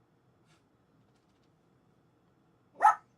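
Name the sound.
dog barking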